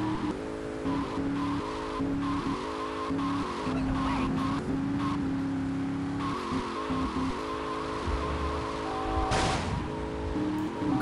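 A car driven in GTA Vice City revs and buzzes with a choppy, fluctuating engine drone, broken by tire screeches and skids, loud and continuous across the stretch.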